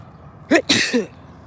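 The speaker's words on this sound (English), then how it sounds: "Gotta sneeze." A single close sneeze with a quick inhaled build-up and an explosive release, then a brief trailing breath.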